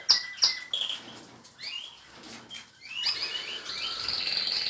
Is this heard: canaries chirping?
yes